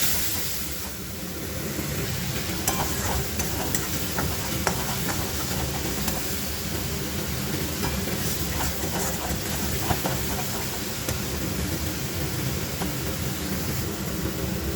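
Tomatoes and spices sautéing in a pan for a fish curry make a continuous, even hiss lasting the whole stretch, dotted with faint clicks from stirring, with no one speaking.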